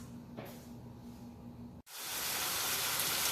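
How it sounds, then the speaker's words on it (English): Lean meat dropped into a dry, hot pan for spaghetti bolognese bursts into loud, steady sizzling after a brief quiet moment, close and continuous with a bright hiss. "my meat is frying and I just wanted to show you that I started frying it already"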